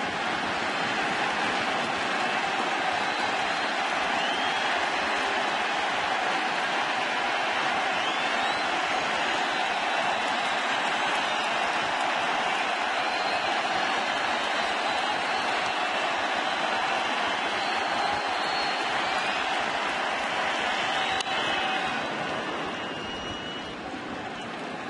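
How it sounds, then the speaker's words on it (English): A loud stadium crowd at Game 3 of the 2010 NLCS baseball playoffs, a steady broadband roar of cheering and chatter that holds for the whole stretch and eases slightly near the end. "Crowd has been into it from the beginning. They've been loud"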